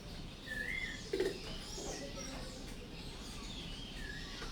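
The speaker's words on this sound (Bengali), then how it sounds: "আমি যেখান থেকে ভয়েসটা রেকর্ডিং করতেছি সেখানে পাখির প্রচুর শব্দ অনেক শব্দ একদম পাখি প্রচুর পাখি" Many birds call faintly in the background, with thin chirps scattered throughout and a single soft pigeon coo near the start, set against low ambient noise.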